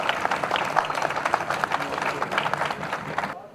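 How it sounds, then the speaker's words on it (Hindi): Audience applause for award winners at the National Science Film Festival of India at Panjab University, a dense, steady patter of many hands clapping that continues for a few seconds before ending. "पंजाब यूनिवर्सिटी से जोरदार तालियां हमारे विनर्स के लिए।"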